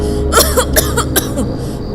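A woman coughs repeatedly in thick smoke, a quick run of harsh, close coughs and throat-clearing in an animated horror story.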